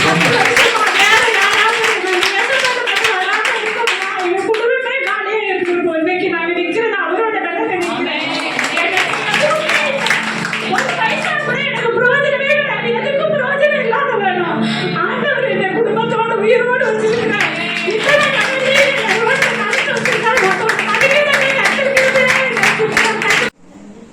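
A church congregation claps along in steady, lively rhythm through most of the stretch, loud and close, with a lull in the middle where a voice carries over lighter clapping.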